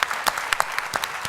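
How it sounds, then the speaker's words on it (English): A policy conference plenary audience claps, with distinct sharp hand strikes standing out over a softer wash of clapping, fairly close and moderately loud, no talk. "Huge round of applause."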